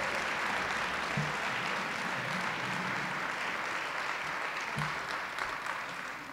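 Sustained applause from a sizeable chapel audience, a steady wash of clapping that holds for several seconds and tapers slightly at the end.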